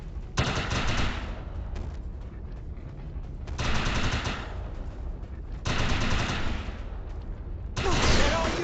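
Overcharged gunfire in the video game Defiance, long sustained automatic bursts, loud and close, separated by short quieter gaps, with four distinct streams of rapid shots and faint voice activity underneath.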